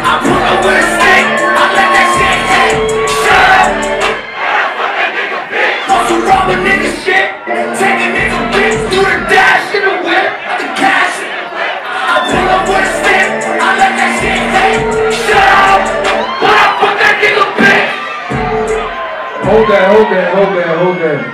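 Concert crowd at a show in Orlando, loud shouting, whooping and cheering mixed with amplified rap vocals and chanting, a continuous dense roar of voices for the whole stretch.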